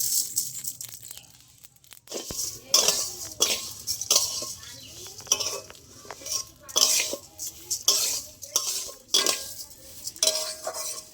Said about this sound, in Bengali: এবার আমি খালি কড়াইয়ে নেড়ে নেবো তা পুরো চালটা দিয়ে দেবো একসাথে